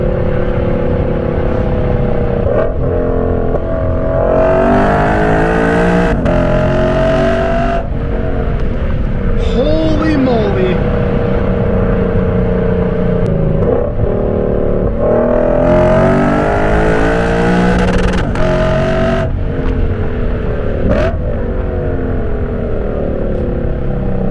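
Lexus RC F with a loud exhaust accelerating hard on the road, its engine note climbing in repeated sweeping pulls and dropping between gear changes, heard from inside the car at close range and loud throughout.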